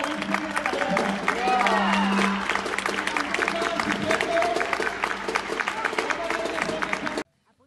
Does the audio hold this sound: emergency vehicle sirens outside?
no